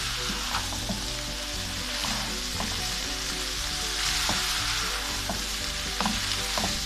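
Vegetables for egg fried rice frying on full flame, a loud continuous sizzle with occasional stirring knocks over a steady low hum.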